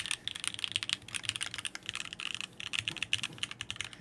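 Typing on a Mode Envoy prototype mechanical keyboard, rapid, muted, lower-pitched keystrokes that stay consistent across the alpha keys, in a close, continuous clatter with brief pauses.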